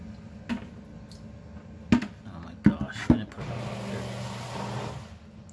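A Saniflo Access 2 macerator pump starts up after a few sharp clicks and knocks, then settles into a steady whirring drone as it pumps water out through its discharge tube, close and fairly loud.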